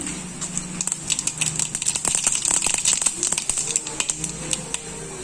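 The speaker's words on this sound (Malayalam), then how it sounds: "കടുക് പൊട്ടി വന്നപ്പോൾ" Mustard seeds splutter in hot oil in a pan, a loud, dense burst of rapid crackling pops that builds and then thins out toward the end, with no speech.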